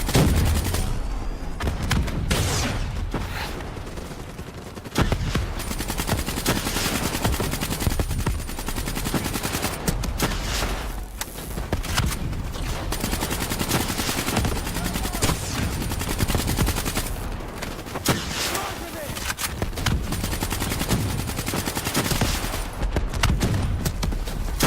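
Dense gunfire from Call of Duty: Black Ops 3 on PlayStation 4, continuous rapid automatic bursts layered with explosions and game effects, loud and relentless with barely a pause.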